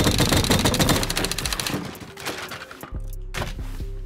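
A video game turret fires a loud rapid burst of gunfire, dense rattling shots that thin out, then a few heavy thuds and another short burst near the end.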